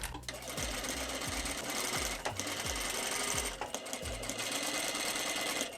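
A sewing machine stitching a crinoline hoop skirt runs in short repeated bursts, each with a rising motor whir, close and fairly quiet over a steady background hiss.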